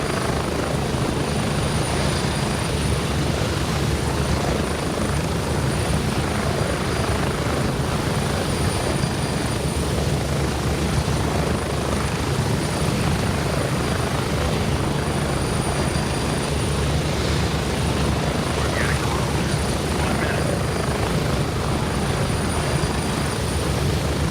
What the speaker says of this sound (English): I just love how that rotor wash affects the assets.